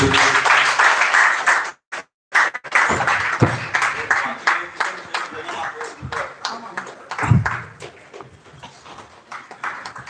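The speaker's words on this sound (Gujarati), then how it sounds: "આવે ત્યાં સુધી એ તાળીઓ તો ચાલુ રહે" An audience claps to welcome a guest at a ritual-practice workshop session, with bursts of applause broken by short gaps and someone talking over it.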